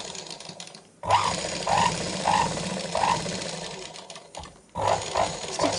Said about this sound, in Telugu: తర్వాత ఇప్పుడు స్టిచ్చింగ్ స్టార్ట్ చేయండి.